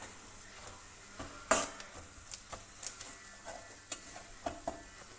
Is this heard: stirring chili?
yes